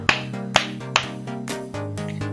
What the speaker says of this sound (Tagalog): Bigyan natin siya ng 3 palakpak.